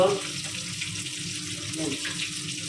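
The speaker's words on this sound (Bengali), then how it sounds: "পানি দিয়ে দিই" Water runs and splashes steadily into a vessel in a home kitchen while fish is being cooked, heard close with a faint background hum.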